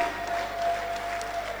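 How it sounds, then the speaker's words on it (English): An audience applauding a neurosurgeon speaker, a steady wash of clapping from a crowded hall that lasts briefly under a faint electrical hum. "the applause you gave to him"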